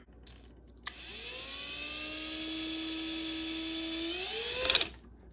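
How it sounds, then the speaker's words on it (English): A small high-pitched drill whines steadily for several seconds, its pitch shifting slightly as it bites, then cuts out abruptly with a brief rattle. "you will need a drill and a small drill bit"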